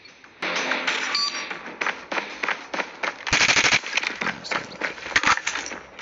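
Rapid gunfire in Call of Duty, with repeated sharp cracking bursts and short volleys of shots, loud and close, throughout with no talk over it.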